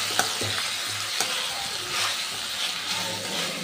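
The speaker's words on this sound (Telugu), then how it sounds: "క్యాలీఫ్లవర్ కూడా యాడ్ చేసుకొని మొత్తాన్ని ఒక 10 మినిట్స్ అలా మళ్ళీ ఫ్రై" Mixed vegetables with cauliflower frying in a pan for a Telugu mixed vegetable curry, a steady loud hiss of sizzling oil with occasional clinks and scrapes of stirring, close up and continuous.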